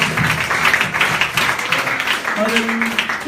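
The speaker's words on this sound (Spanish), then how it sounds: "Denles aplauso al gran Dios." A church congregation applauds during a Spanish-language Sunday school service, a steady wash of clapping under voices and tonal sounds that sustains for several seconds.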